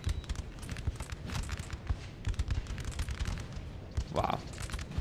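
Musket volleys crackle in a Napoleonic: Total War battle, a scattered fusillade of sharp shots popping in rapid irregular bursts at moderate distance, with a voice heard briefly.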